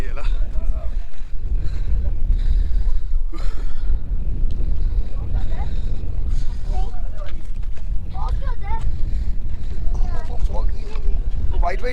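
Strong wind buffets the microphone in continuous roaring gusts on Mullayanagiri peak in Karnataka, 1930 meters, with voices talking faintly underneath.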